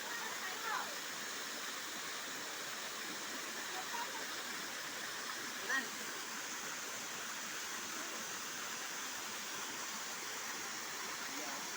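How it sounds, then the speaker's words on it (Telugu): Water from a waterfall near a village makes a faint, steady broadband rush that continues evenly for about twelve seconds, heard from a distance. "ఇదైతే మా ఊరి దగ్గరలో ఉన్న వాటర్ ఫాల్స్ ఫ్రెండ్స్."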